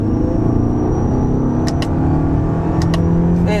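The cabin of a 2026 Toyota RAV4 GR Sport, a hybrid with an eCVT, holds in first gear under acceleration. A steady, loud engine drone and road rumble fill it, with a rising whine and a few brief clicks.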